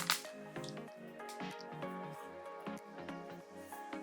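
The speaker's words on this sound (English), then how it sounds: "a very drippy faucet" An old, heavily oxidized bathroom sink faucet with separate taps drips steadily, a rapid run of close, wet plinks and splats with a slight hollow ring, no voices.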